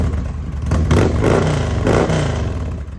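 An '03 Victory Vegas VFXRT motorcycle fitted with slip-on mufflers revs loudly twice in quick succession over a deep rumbling idle, close and alone without talk.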